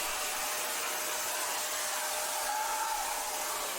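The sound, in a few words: WM210V metal lathe cutting a chamfer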